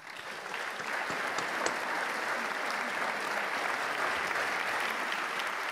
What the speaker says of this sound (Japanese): 盛大な拍手にてお迎えください